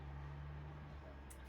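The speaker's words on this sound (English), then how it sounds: "That was a big logger truck." Deep, steady low rumble of a big logging truck passing outside, close enough to fill the low end, heard alone without talk and holding evenly before a brief hiss at the end.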